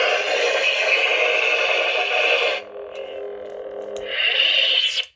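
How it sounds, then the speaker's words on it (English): A buzzing, distorted lightsaber hum breaks into a sharp crackling blaster-block burst, then the hum swells back up before cutting off. "tap the aux switch at this point to trigger blaster block"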